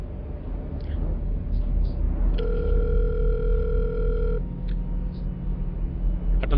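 A mobile phone call plays its ringback tone as a steady electronic beep lasting about two seconds. A few shorter tone blips follow, all over a constant low rumble of background noise during a night out.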